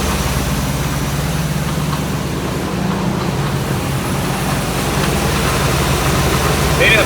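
A 1984 Chevy Blazer barn find idles with a steady low engine drone, close and continuous, while a whining noise suspected to come from a power steering system low on fluid runs underneath.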